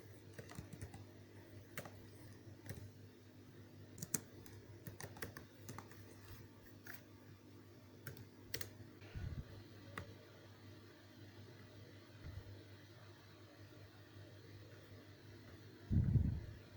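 Someone types on a computer keyboard while searching online for a motherboard BIOS key. Irregular bursts of soft key clicks sound over a steady low fan hum, with a couple of duller thumps near the end.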